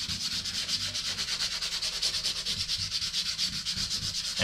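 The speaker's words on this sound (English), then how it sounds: "I've got 180 grit sandpaper here. And just rub it over the top of it." 180 grit sandpaper rubbed lightly over wall filler makes a rapid, even back-and-forth scratching rhythm, close and steady, with no talking.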